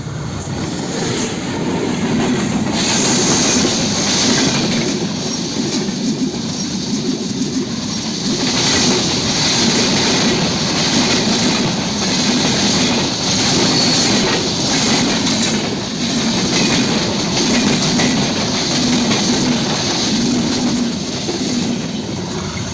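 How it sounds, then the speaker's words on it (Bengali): A train running on rails, a continuous loud rumble with clattering wheels and occasional squeal that holds steady for over twenty seconds. "ওই যে সামনে ট্রেন আইতাছে"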